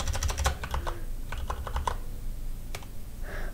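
Computer keyboard typing in quick bursts of clicky keystrokes over a constant low machine hum, pausing briefly before a single later keystroke.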